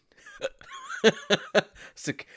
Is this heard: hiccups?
yes